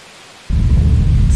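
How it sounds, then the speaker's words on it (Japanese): Heavy rain and a deep thunder rumble break in suddenly and stay loud and continuous as a violent storm strikes a village in Grandia 2. "ある日激しい嵐が村を襲った"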